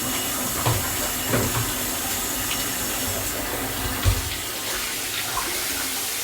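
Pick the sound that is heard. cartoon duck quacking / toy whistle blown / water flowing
water flowing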